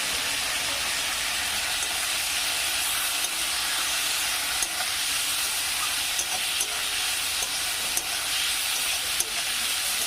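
Chopped tomato and ginger-garlic paste stir-frying in hot oil, a loud, steady sizzle running throughout with faint scraping from the stirring.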